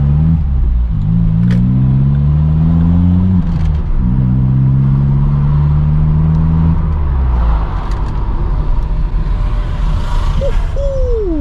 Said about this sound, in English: you can put an exhaust on a Corsa and it can sound shit